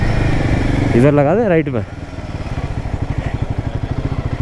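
Motorcycles parked at a high-altitude spot near Umling La in Ladakh, one engine revving loudly and then dropping to a steady, thumping idle pulse, close by, while someone speaks briefly over it.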